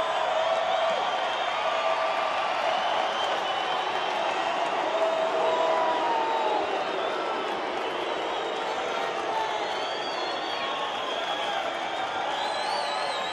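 A baseball stadium crowd of 28,000 awaiting the final strike with two outs in the ninth inning, a steady, broad murmur of many voices and scattered shouts, with an announcer talking over it.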